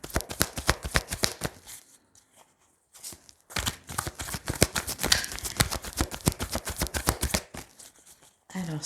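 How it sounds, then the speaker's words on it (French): Tarot cards are shuffled and drawn by hand, giving quick crisp riffling flutters in close bursts, with a brief pause in the middle and no talk. "Je vais reprendre une dernière carte."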